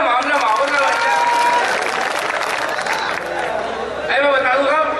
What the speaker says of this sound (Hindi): एक बार ताली आली बजा दो जरा, मामला माहौल का बन जाए।